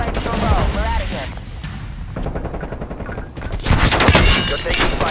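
Rapid automatic gunfire and explosions in Call of Duty: Black Ops Cold War, loud dense bursts of shots running almost continuously with brief lulls, mixed with game effects.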